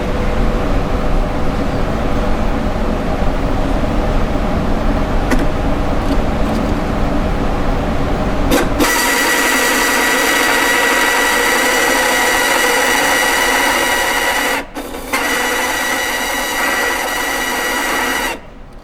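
A Hornby R751 BR Blue Class 37 model train locomotive motor runs loudly and continuously with a rough, rattling whir that turns into a brighter, harsher buzz partway through, briefly dipping before ending.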